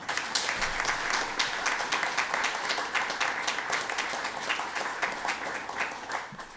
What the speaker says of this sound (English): Let's just give that a round of applause.